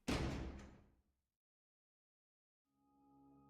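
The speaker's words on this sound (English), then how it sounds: "The basement door burst open, a flood of light pouring over her." A basement door bursts open in a visual novel game: a sudden loud bang that decays over about a second, then silence until a faint sustained tone swells in.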